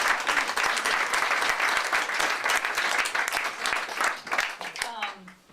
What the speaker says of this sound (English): let's just clap for the review panel